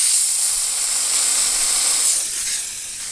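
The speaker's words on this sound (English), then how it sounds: "Well, it's coming out with some aggression, but the hot steam." Hot steam hisses steadily from a Vapor Clean Pro 6 steamer during mobile detailing stain cleaning, a loud broadband rush that eases slightly near the end.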